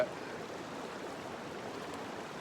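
A shallow river runs through narrow braided channels, a steady, even rushing hiss of moving water with no other sounds.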